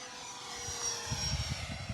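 A Dynam Meteor V3 70mm electric ducted fan RC jet flies overhead, giving a steady, fairly faint whine with low buffeting wind bumps.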